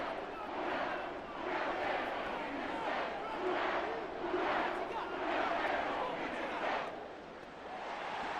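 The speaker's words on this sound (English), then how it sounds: "And the home crowd applauding." Stadium crowd noise from the Madden NFL 24 football video game: a broad, steady roar of the home crowd clapping and cheering, swelling in several waves over the full length at moderate level, with no talk over it.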